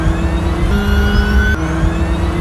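A quiet electric-motor car, the Cars 3 animated character 2.0, drives past with a steady whirring hum and a faint rising tone, fairly loud and continuous, with no talk.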